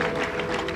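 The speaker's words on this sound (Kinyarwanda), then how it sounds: "Kwa Imana amashyi." A brief burst of applause from a church congregation at a bishop's consecration, dense overlapping clapping from many hands.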